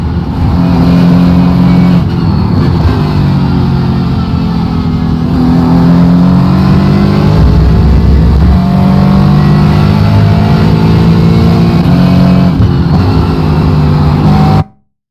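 A race car on track at New Jersey Motorsports Park accelerates hard under throttle, its engine note loud and close with rising harmonic sweeps through gear changes, sustained for about fifteen seconds before cutting off abruptly.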